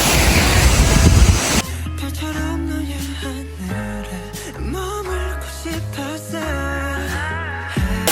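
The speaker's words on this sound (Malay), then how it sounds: "inilah air terjun yang satu-satunya kat Korea ni. Dia terus turun ke laut" Yongbang Waterfall on Jeju pouring straight into the sea gives a loud, dense roar of falling water for a second or two before music takes over.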